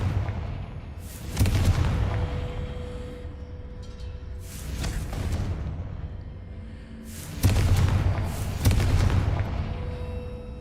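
Repeated Confringo spell blasts in the video game Hogwarts Legacy, several heavy booming explosions spaced a few seconds apart over a constant rumbling game background.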